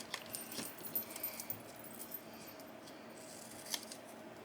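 Scissors snipping through paper to cut out handmade postage stamps for junk journal ephemera, a few soft, close crisp cuts and rustles at a low level with no talking.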